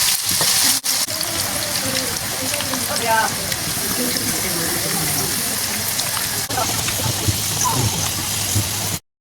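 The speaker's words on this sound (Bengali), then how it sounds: "আলুটা এভাবে ব্রাউন কালার হয়ে আসলে ভালোভাবে ঘন ঘন নাড়তে হবে, যেন পোড়া দাগ লেগে না যায়" Potatoes for French fries sizzle and crackle steadily in hot oil in a pan, with scraping and stirring sounds throughout and a voice talking over the frying.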